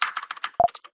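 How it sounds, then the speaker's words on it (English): A shell program sounds a terminal bell, two short tonal dings heard amid rapid clattering computer keyboard typing, both close and clear. "that's kind of the bell sound you can hear"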